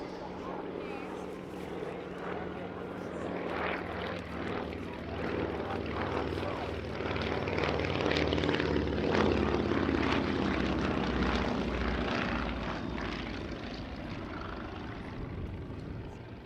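Avro Anson I, a twin-engine aircraft built at Eden in 1943, droning steadily overhead at an airshow and swelling then easing as it passes, with a voice talking over it.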